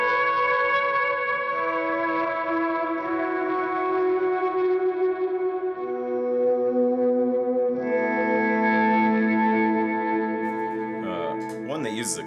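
Guitar run through a pedalboard set for delay, reverb and ambient swells, sustained chords blooming into a washed-out echoing pad that shifts pitch partway through, with a wobbling swell at the end.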